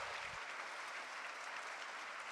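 Audience at a UN General Assembly event applauds as Annalena Baerbock, President of the General Assembly, comes to the stage, a continuous, even wash of clapping from a large crowd, no voices.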